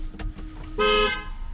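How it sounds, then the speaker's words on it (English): A single short Tesla car horn honk sounds out clearly after a brief moment of quiet idling during a driving test. "And then honk the horn, please."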